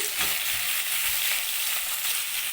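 Tomato frying in a pan with onions and curry leaves makes a loud, continuous close sizzle that holds steady throughout.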